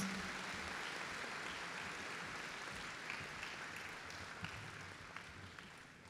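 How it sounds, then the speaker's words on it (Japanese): Audience applause at the closing general assembly of the World Conference against Atomic and Hydrogen Bombs in Nagasaki, a steady wash of many hands clapping together, sustained and even throughout at moderate distance. "今一度力強い拍手をお願いします"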